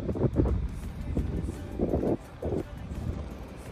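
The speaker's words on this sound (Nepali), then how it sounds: "चिसो हावा पनि त्यसले भइरहेको छ" Cold wind gusts at the Cape Solander coastal lookout in Kamay Botany Bay National Park, buffeting the microphone in uneven rumbling surges, with faint voices underneath.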